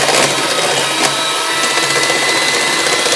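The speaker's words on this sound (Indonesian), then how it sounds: "Di mixer lagi." A steady electric mixer whirs continuously while beating nastar cookie dough with egg yolks, a loud, even motor hum with no pauses.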